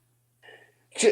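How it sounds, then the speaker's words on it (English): A single sharp sneeze bursts out near the end, loud and close, after a brief faint vocal sound in an otherwise quiet room. "And the TP was for your sneeze."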